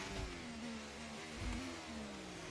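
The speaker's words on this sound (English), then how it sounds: "Need to get used to this engine noise again" In a racing video game, a car engine revs high and then slowly winds down in pitch, heard up close and fairly faint, with a couple of low thumps underneath and nobody talking.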